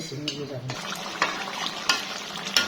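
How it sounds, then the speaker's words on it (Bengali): Country chicken curry with potatoes is stirred and fried in a pan. A spatula scrapes and clanks against the pan in repeated strokes over a low, steady sizzle, heard close up. "যখন মাংসটা কষিয়ে আসবে তখন আলু দিয়ে আবার বেশ কিছুক্ষণ কষিয়ে নিয়ে নাড়াচাড়া করতে হবে।"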